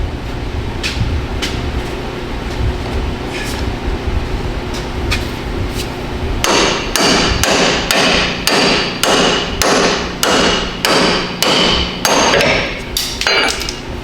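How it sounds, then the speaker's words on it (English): Metal-on-metal hammer blows strike a pickle fork repeatedly while checking a GM truck's pitman arm, a few light taps at first, then a steady run of loud ringing hits over an engine-like hum. "I'm gonna use a big old pickle fork and just take a big old hammer and just drive it right in."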